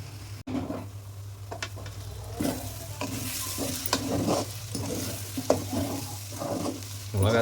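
Spices being stirred through a frying pan for a Tamil-style chicken curry, a steady sizzle broken by repeated scraping strokes of a spoon against the pan, close and alone with no talking.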